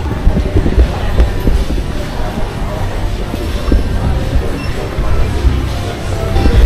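An underground MRT train at Chatuchak Park station in Bangkok rumbles steadily and loudly throughout, a dense low roar with faint rail clatter and no voices.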